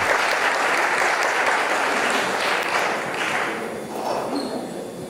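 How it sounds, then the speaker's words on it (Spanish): Audience applause at a conference meeting, loud dense clapping from a crowd that starts strong and gradually thins and fades toward the end, with no talking over it. "El aplauso para ellos, por favor."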